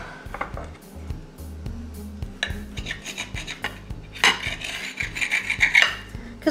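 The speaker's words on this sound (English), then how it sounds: "What I'm gonna do is cut it in half." A knife slicing strips of bacon in half on a cutting board for a jalapeno popper appetizer, giving repeated soft chops and scraping knife contacts at close range, uneven and unaccompanied by speech.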